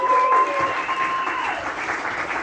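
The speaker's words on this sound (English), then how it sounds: "Keep clapping for Nick, everybody," An audience at a comedy show applauds for the host, a close, full burst of clapping that thins slightly as it continues, with a steady tone running underneath early on.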